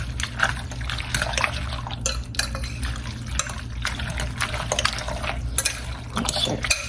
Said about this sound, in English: You can hear that juice just sloshing from the sugar that we added